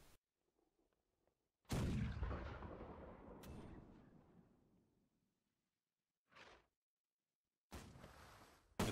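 Ship cannon fire in the naval battle game Holdfast: Nations at War, a loud booming blast that rolls and fades over several seconds, followed by two shorter, sharper bursts after long silent gaps.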